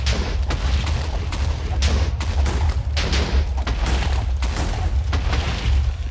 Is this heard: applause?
no